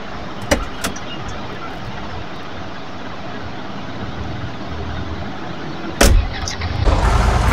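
Car driving in Big City Life Simulator, a steady engine and road drone running throughout, with a few sharp transient knocks early on and a louder burst near the end.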